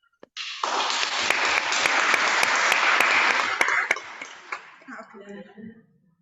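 A conference audience gives a sustained round of applause after a workshop presentation on climate change, the clapping starting abruptly, holding steady and fairly close, then thinning out and fading near the end.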